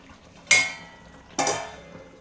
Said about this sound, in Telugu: మూత పెట్టా.